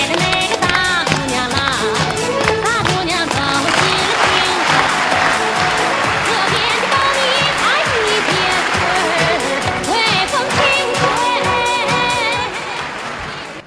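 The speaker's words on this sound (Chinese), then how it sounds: "掌声欢迎四号张琳琳" Studio audience at a televised dating show applauding contestants onto the stage, sustained loud clapping with cheers and music mixed in, tapering off at the end.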